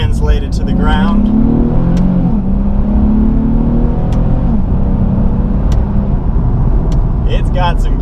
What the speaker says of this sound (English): The power comes in very low and just keeps accelerating as you go up through the rev counter, and through each gear the power just keeps going